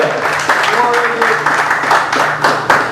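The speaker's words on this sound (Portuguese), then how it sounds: "Você pode aplaudir o Senhor Jesus?" A church congregation applauds during a family worship service: steady, dense clapping fills the room for a few seconds, with a voice and soft tonal sound mixed underneath.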